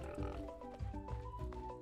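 Pigs in the farming video game Roots of Pacha give a few short, faint oinks in a quick cluster over soft background music.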